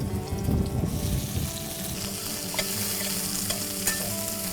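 Garlic and onions fry in a pot for curry, sizzling loudly under brisk stirring, with a few clanks from a utensil against the pot.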